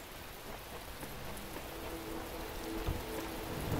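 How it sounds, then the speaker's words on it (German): Steady rain pours down in the video game The Talos Principle, a dense, even hiss of drops on surfaces that holds constant and grows slightly heavier toward the end. "Der Regen macht mir zu schaffen,"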